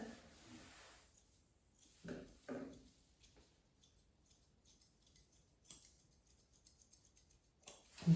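Quiet, close scissor snips cutting a doodle's coat come in short bursts of crisp clicks, with soft rustling between them and no talking.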